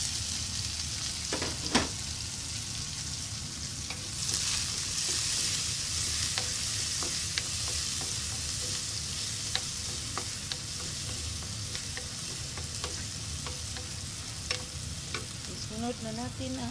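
Onion fries in a pan with a steady, fairly quiet sizzle, punctuated by occasional clicks and scrapes of stirring.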